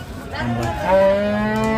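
A single bull moos nearby, a deep drawn-out low call that rises and holds steady for a moment.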